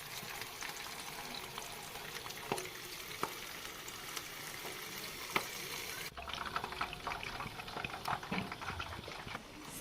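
Street-style chicken pakoda pieces fry in hot oil, giving a soft, steady bubbling sizzle close by, quiet overall, with a few faint clinks and a slight shift in texture partway through.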